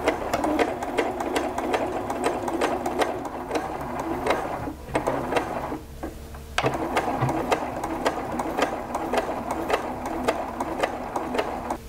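A sewing machine stitches a wool skirt tab, a steady rapid clatter close by that pauses briefly midway and then resumes.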